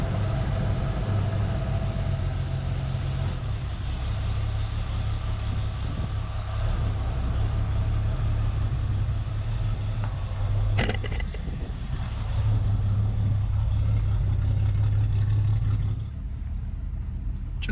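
An AMC Eagle car drives along with a steady low engine rumble heard from inside, marked by a brief sharp clunk near the middle.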